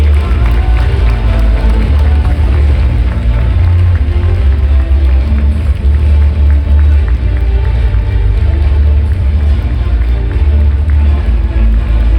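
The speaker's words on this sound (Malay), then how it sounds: "Oke Bapak Ibu, kita undang dengan tepuk tangan yang paling meriah tim Supreme Pegasus 9" Audience applause and cheering on an Indonesian stage as team Supreme Pegasus 9 is welcomed, a loud, dense, steady wash of clapping and crowd noise throughout.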